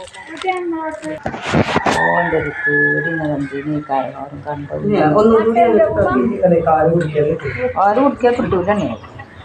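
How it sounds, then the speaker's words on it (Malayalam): A rooster crows loudly near the start with a harsh, stretched call, followed by continuous talking that covers the rest. "പൂവൻ കോഴിയാണ്"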